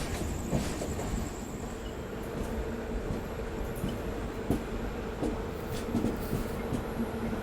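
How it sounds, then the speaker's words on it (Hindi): Shanti Express passenger train running at night on the Delhi-Mumbai main line near Nagda Junction, with a steady, continuous rumble and rattle of railcars and faint rhythmic wheel clicks throughout, no voices. "अब हमारी train main line Delhi Mumbai line पे भागेगी।"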